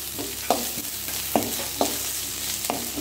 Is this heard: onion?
yes